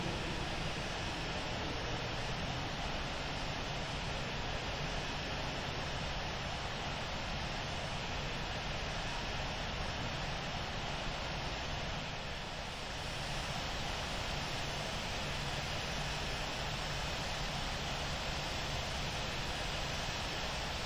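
American airliner taking off from runway 4 left at JFK Airport in Infinite Flight: a loud, steady jet engine roar that holds continuous for the whole stretch, with no voices.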